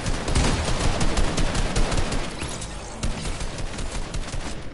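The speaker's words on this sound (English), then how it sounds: "Everyone's shooting at me." Dense, continuous gunfire in a video game, many guns firing at once in a loud, unbroken rattle of rapid shots that stays heavy throughout and tapers only slightly toward the end.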